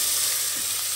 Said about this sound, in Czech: Teď tam přidám slaninu, nechám ji rozpustit, no a přidám tam cibuli